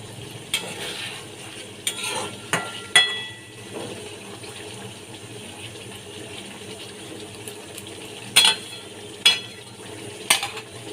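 Green chillies frying in a mustard shrimp curry in a pan give a steady, soft sizzle, with a few sharp clattering spikes of stirring spread through it. No one speaks.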